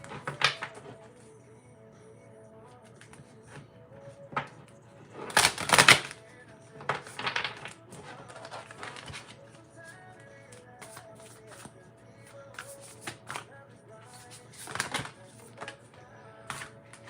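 Tarot cards shuffled by hand in a quiet room, with soft riffling, rustling and tapping bursts and one louder flurry of card noise, heard alone without talk.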